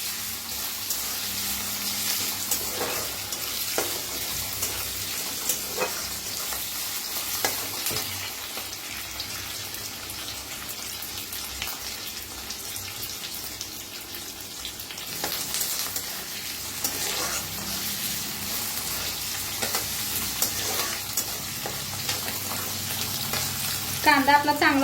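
Onions frying in oil in a pan for a spiced cabbage dish, with a steady sizzle lasting throughout and intermittent scraping stirs, heard alone without talking.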